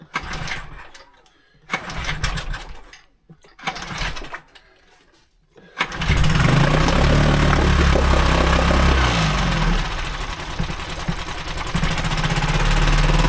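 An outboard motor with the choke on is pulled over in several short cranking bursts, then catches and settles into a loud, continuous running drone close by. A voice speaks briefly during the attempts.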